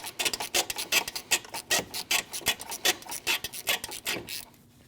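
Rapid ratchet-wrench clicks loosening a 10mm battery hold-down nut on a 2012-2016 Honda CR-V: about twenty sharp, rasping strokes in an even rhythm, close and fairly loud, then stopping near the end.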